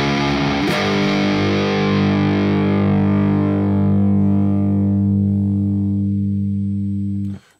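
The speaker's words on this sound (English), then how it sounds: "if you're using a highly distorted amp, as I'm simulating here with two oranges, and slap an overdrive in front of it" A heavily distorted electric guitar runs through an MX distortion pedal into a cranked amp, one struck chord sustaining loud and thick for several seconds before cutting off abruptly.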